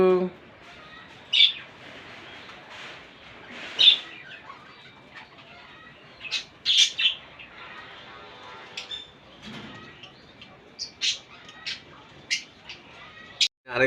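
Black Baghdadi and racer pigeons at a pigeon keeper's loft, with brief chirps, soft coos and short bursts of wing flapping scattered among a man's speech close by.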